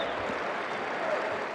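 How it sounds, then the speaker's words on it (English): Syracuse fans stand and clap in the Dome during a basketball game, a dense, steady wash of crowd applause. "The tradition here at the Dome is you stand and clap until the first made field goal of the half."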